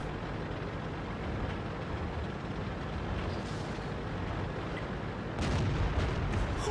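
An artillery shell fires in a war video game, a deep boom bursting out near the end over a low, steady rumble of in-game ambience.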